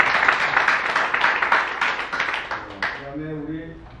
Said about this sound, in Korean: 뉴욕체전의 면모를 확실히 보여주신 우리 김영환 단장님께 다시 한번 큰 박수.